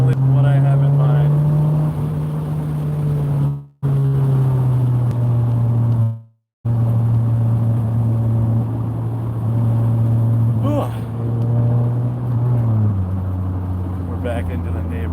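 An Acura Integra engine drones steadily while driving, its pitch rising in long pulls and then dropping as it shifts, loud and close from inside the car, with two brief cutouts and a person talking at times.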